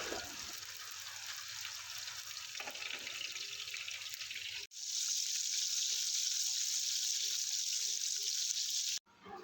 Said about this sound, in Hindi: अब मैं इन बॉल्स को मीडियम फ्लेम पर जो है फ्राई करूँगी